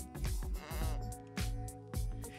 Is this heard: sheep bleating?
yes